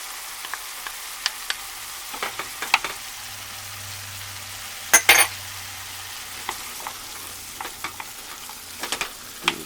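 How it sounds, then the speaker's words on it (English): Potatoes and garlic for minestrone soup are stirred in a pot, with a soft sizzle underneath and a scattering of spoon scrapes and clicks, including a louder burst of stirring midway, close and without speech. "Give these a good stir"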